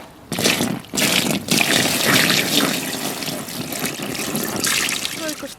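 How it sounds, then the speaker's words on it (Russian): Water is poured and splashes over a freshly caught carp at a lakeside fishing spot, a steady close rush with brief pauses, loud and continuous. "Надо этого чуть-чуть полить водой."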